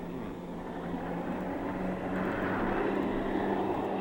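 Jet planes flying overhead in a giant-monster film, a steady broad engine roar that swells slightly louder over the few seconds, with no voices.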